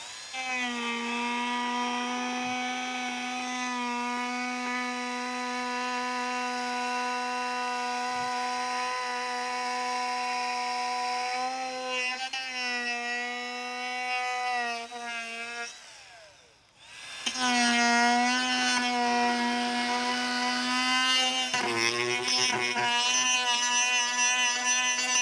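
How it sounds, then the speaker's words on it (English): A Dremel rotary tool cuts plastic vent trim for a 2024 Toyota Tacoma, giving a steady high-pitched whine that holds for about sixteen seconds. It dips briefly, then returns loud and close with a shifting pitch. "If you have a Dremel tool, it'll work much easier, be quicker."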